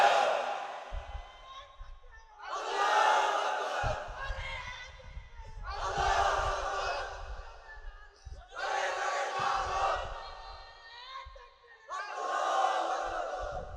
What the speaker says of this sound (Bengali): নারায়ে তাকবীর, আল্লাহু আকবার